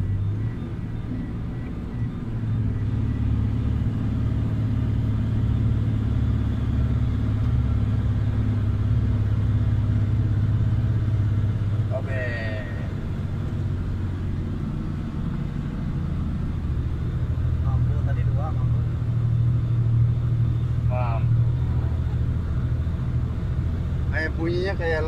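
A Tata 3338 dump truck's engine drones low and steady while climbing a winding uphill road, heard from inside the cab with people talking over the rumble.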